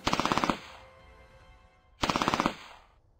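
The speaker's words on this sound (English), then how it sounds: "Now they fire them and the effects are hilarious." Two bursts of rapid automatic gunfire from the video game Frontline: Road to Moscow, each about half a second long of loud, evenly spaced shots with a ringing tail between them.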